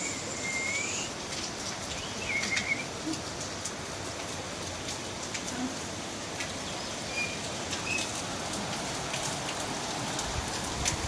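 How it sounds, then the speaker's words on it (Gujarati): Steady rain falls and patters on a surface throughout, with a few faint bird chirps in the background. "લો વરસાદ ચાલુ છે"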